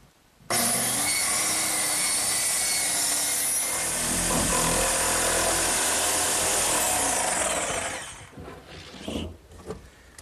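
A power saw cuts a hatch into a wooden chair seat, a loud, steady close whine for about eight seconds, then it winds down into a few scattered knocks and clatters.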